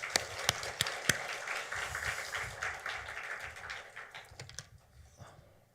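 A church congregation claps during a Sunday worship service, a dense patter of many hands that holds steady and then tapers off near the end.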